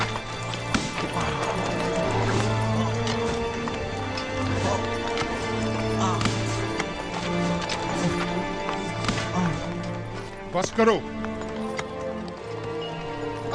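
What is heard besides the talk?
horse galloping and neighing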